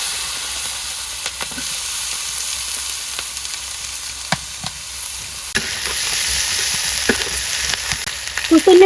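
Onion stalks frying in a wok in a village kitchen, a steady hiss of oil that grows louder and brighter partway through, with occasional clinks and stirring, close and without speech.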